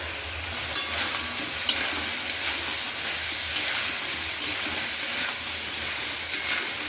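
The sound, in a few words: prawns and taro frying in pan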